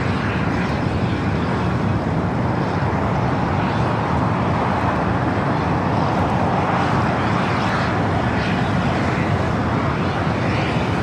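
An ANA airliner arriving at LAX from Tokyo Haneda, its engines a loud, steady broadband roar with a deep low-end rumble held throughout, heard from a hotel rooftop without any talking.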